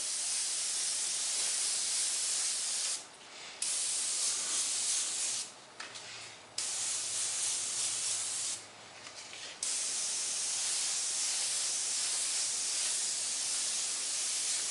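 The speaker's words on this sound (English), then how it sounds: "Spray right on the tip of it." Spray paint is airbrushed over a cut stencil to lay down ghost flames in a loose fog pattern, a loud continuous hiss broken by three short pauses between passes.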